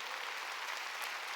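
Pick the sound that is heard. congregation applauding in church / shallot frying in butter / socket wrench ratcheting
congregation applauding in church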